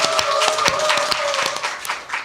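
Studio audience clapping opens a Korean current-affairs talk show, a brief burst of applause with some louder individual claps and a tonal sound running underneath.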